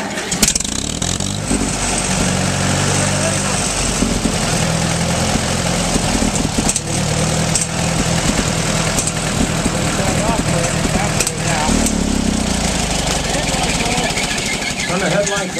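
An old farm vehicle at a rural Ohio farm auction cranks and fires up, then settles into a rough, loud idle that keeps rumbling nearby while people talk.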